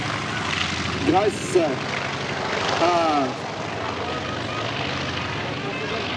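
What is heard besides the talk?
WWII Luftwaffe airplane engine at Cambrai air show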